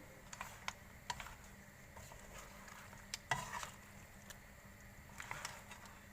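Prawns and seafood stir-fry, sizzling softly in a pan with a creamy sauce while a utensil scrapes and taps against it in irregular strokes, quiet and close.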